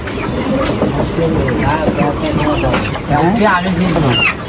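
Farm chickens clucking at a busy poultry market, many overlapping clucks and squawks close by, loud and continuous amid crowd noise and talking.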